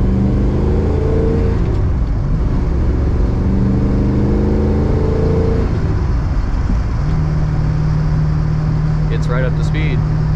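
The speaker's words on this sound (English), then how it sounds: "Gets right up to speed" A 1969 Chevrolet Camaro with a 350ci V8 accelerates on the road, its engine note rising steadily in pitch and settling into a steady drone, loud and continuous throughout with road and wind noise.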